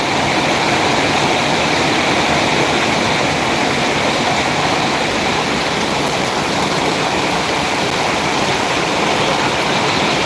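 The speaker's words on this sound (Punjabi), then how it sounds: "ਵਰਖਾ ਬਹੁਤ ਲੱਗੀ ਹੋਈ ਆ" Heavy rain pours down outside a tent, a dense, steady roar of falling water that stays loud and unbroken throughout, with no voices.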